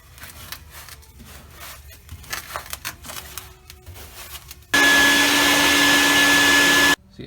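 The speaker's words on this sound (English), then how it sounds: "vacuum cleaners do not like leaves" A shop vacuum works at sand inside a car being stripped for restoration. First come uneven rattling and rubbing sounds, then a loud, steady motor roar for about two seconds before it cuts off abruptly.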